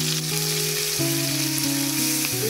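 Ginger paste sizzles loudly in hot soybean oil with chilli powder, a close, continuous frying crackle with steady hiss throughout.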